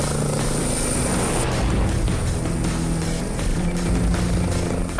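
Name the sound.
air ambulance helicopter lifting and hover taxiing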